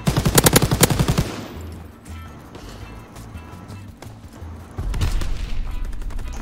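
Rapid gunfire bursts in Call of Duty WWII multiplayer, loud close shots at the start, then quieter battle ambience and renewed firing with footsteps, no clear talk.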